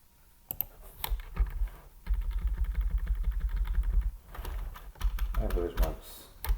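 Rapid clattering keystrokes on a computer keyboard while entering a Python variable name, close and fairly loud, in bursts separated by brief pauses, with a voice talking over parts of it.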